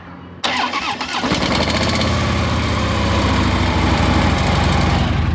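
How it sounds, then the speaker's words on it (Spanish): A Harley-Davidson Road Glide Special motorcycle engine cranks and catches, then settles into a loud, rumbling idle close by with a steady throbbing rhythm. "vamos a aprovechar para oír esta hermosura de motocicleta."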